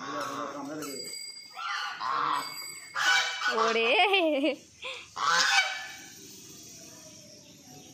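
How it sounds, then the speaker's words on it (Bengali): Two large geese near a temple in Kolkata let out loud, close honks in a few uneven bursts. A person briefly calls out between them, and the calls end in quiet rustling. "দুটো রাজহাঁসা রয়েছে, কি বড় বড়।"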